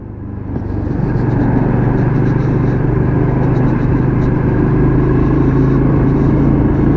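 AJS Cadwell motorcycle on a test ride, a loud steady engine drone with low rumble building at the start and then holding constant, heavy wind buffeting throughout, with no talking.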